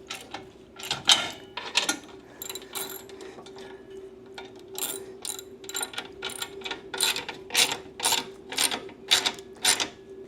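Repeated ratchet clicking while bolts are tightened on a Blue Ox tow bar during a Jeep flat-tow setup, in short bursts of rapid pawl clicks that grow steadier and more rhythmic toward the end, close and clear with a steady hum beneath.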